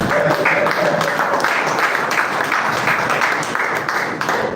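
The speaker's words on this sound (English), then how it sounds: "Please clap for yourself." Audience clapping at the official launch event of a Nigerian trade finance skills survey, a full, steady round of applause from a room of people that tapers slightly toward the end.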